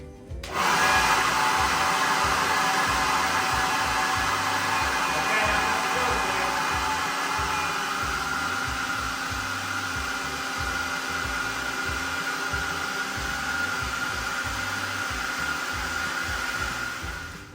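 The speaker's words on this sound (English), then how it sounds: "if I blow the air over here with my hair dryer" A hair dryer blows a steady stream of air over a beach ball, a loud continuous whir with a low rumbling flutter that holds constant throughout, with no talk.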